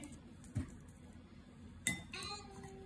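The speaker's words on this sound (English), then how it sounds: "So take this spatula and break these lumps." A spatula stirring eggless strawberry cake batter in a mixing bowl: two sharp clinks against the bowl stand out, with soft scraping and faint kitchen background between them.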